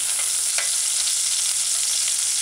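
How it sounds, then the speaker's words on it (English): Onions sauteing in a hot pan for a sweet potato rundung produce a loud, steady, close-up sizzle and crackle with no pauses. "I like my onions sauteed, giving it some flavor"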